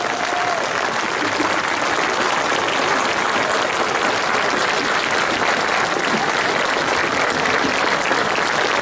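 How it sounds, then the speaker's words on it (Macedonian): Steady, dense applause from a concert audience in Delčevo fills the whole stretch, loud and unbroken, greeting a violinist at a Macedonian ensemble performance. "Голем аплауз за Александар Краповски"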